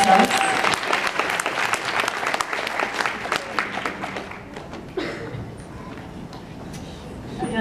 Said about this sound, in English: Can I get a round of applause, please, for our judges?